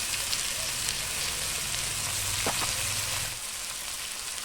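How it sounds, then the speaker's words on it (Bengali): Salted, turmeric-spiced curry of potato and onion sizzling steadily in a pan, with a fairly loud, continuous fry hiss and a brief scrape of stirring near the end. "এবার আমি মশলাটা দিয়ে দিচ্ছি। তরকারিটা একটু কষা কষা হোক"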